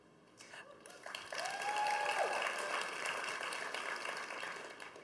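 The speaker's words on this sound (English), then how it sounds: "A couple more claps coming, guys." Sustained audience applause at a startup demo day, a broad wash of clapping that swells and then slowly fades, with a brief tonal sweep near the start.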